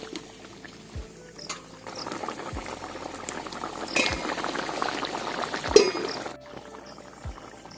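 Ilish fish and eggplant curry gravy boiling in a pot, a continuous bubbling simmer with occasional louder pops and low knocks from the pan, close and alone without speech.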